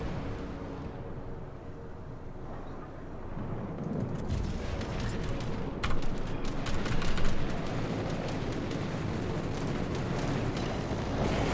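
Heavy cruiser HMS Cheshire firing its guns in a naval battle game, deep booming salvos and rumbling blasts building to a loud cluster midway, over a constant sea and engine roar.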